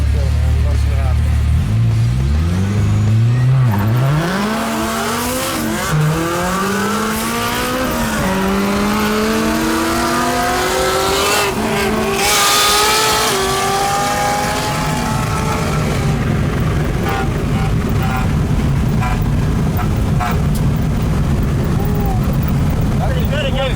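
A Whipple-supercharged Honda S2000 race car launching at a drag race event, with a loud engine climbing through several gearshifts with rising whine, then fading into distant roar and crowd noise as people talk nearby.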